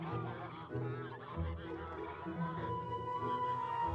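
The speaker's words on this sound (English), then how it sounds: "Eat more, little ducks." Ducks quack and honk continuously as they are fed outdoors, a busy overlapping chorus of calls with steady background noise and faint voices mixed in.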